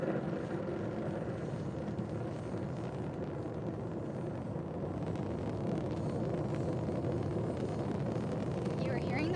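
A Delta IV Heavy rocket climbing away after launch in Florida makes a continuous, steady, broad rumbling roar that fills the whole stretch, with no breaks in the sound.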